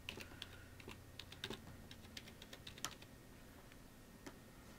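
Typing on a computer keyboard while entering account details for a free calling app on an iPod touch, with irregular quiet key clicks close by over a low steady hum.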